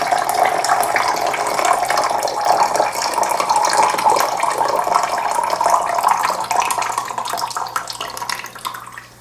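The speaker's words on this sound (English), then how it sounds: "Gonna pour out the water here, the tap water" Steady splashing tap water, used for soaking tomatoes, pours out of a container continuously for several seconds, a bright close-up stream that gradually thins at the end.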